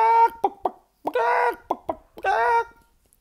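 A human voice imitates a chicken with clucking: short staccato clucks alternate with two longer, drawn-out squawking bursts. The sound is close and clear against silence.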